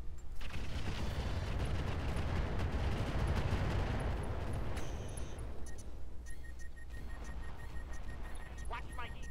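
Heavy mech weapons barrage in the Roguetech video game, dense rapid gunfire and explosions pounding continuously for several seconds, thinning out toward the end as a voice talks over the din.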